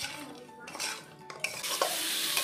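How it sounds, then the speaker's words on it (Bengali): Vegetables for a watermelon curry are stirred and fried in a pan, a close, continuous sizzle broken by scraping strokes of the spatula against the pan. "তো সবজিগুলো ভালো করে কষে নিয়েছি"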